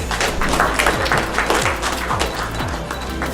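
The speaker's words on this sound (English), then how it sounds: "Let's welcome him with a round of applause" A crowd at a book publishing event in India claps steadily in sustained applause, a dense patter of many hands with a few dull thumps underneath.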